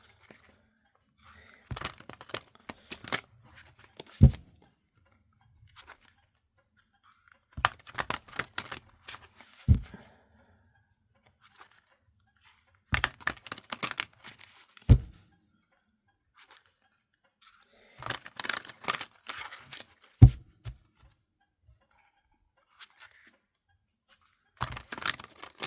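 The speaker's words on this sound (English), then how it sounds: "So I want to pull you 6 tarot cards." Tarot cards are shuffled in several separate bursts of quick papery riffling and soft clicks, each lasting a few seconds with quiet pauses between, close but fairly faint.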